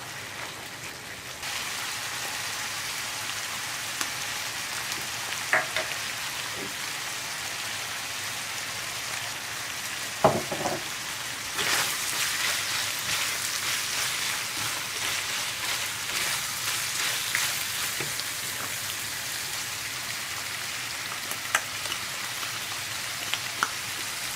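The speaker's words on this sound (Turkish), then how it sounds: "Şimdi salçayı katıyorum. Bununla da birazcık kavuracağım." Tomato paste sautéing in a pan for içli köfte filling gives a steady, rain-like sizzle throughout, with a few faint clicks and a brief knock near the middle.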